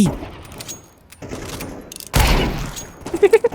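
Gunfire in a shooting video game: a couple of sharp shots, then a loud burst at mid-clip trailing off, followed by a quick rhythmic run of fainter pops near the end.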